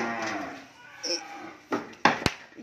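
Cattle low while being loaded onto a truck for delivery to buyers, a couple of short moos amid handlers' shouts and sharp knocks, fairly close in an outdoor farm setting.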